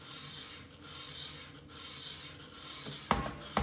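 A clay pot is trimmed on a pottery kick wheel, giving a continuous soft rasping scrape with a faint rhythmic rub. Light knocks follow near the end.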